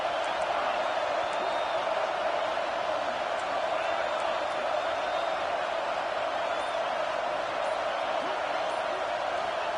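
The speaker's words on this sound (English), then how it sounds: "Decibels rising as the crowd gets behind this defense on third down." A football stadium crowd at a Nebraska vs Pitt game roars behind the defense on third down, a continuous loud wash of cheering that holds steady throughout, with an announcer's voice over it.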